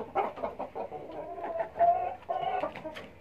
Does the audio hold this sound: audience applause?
no